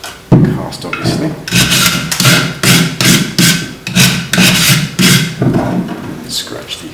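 Surform rasp, a cheese-grater-style tool, filing a hand cast: steady rhythmic rasping strokes, about a dozen back-and-forth scrapes, close and fairly loud with no talk.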